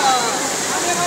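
Heavy stormy rain in Ajmer Sharif, a dense, continuous hiss of pouring water close to the recorder, steady and loud throughout.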